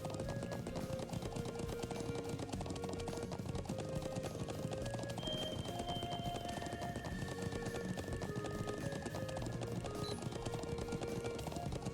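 Horse hooves clop in a fast, steady gallop in the video game Legend of Heroes: Trails of Cold Steel, with a snort or whinny mixed in, set against a quiet background of music and ambient sound.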